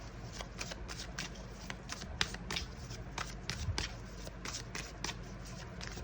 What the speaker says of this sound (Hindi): एक कार्ड निकालते हैं यहाँ पे